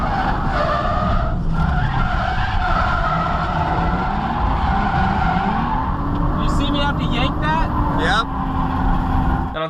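Toyota JZX drifting at the Ebisu circuit in Japan, with a loud continuous engine roar and squealing, skidding tires heard from inside the car, with people talking over it.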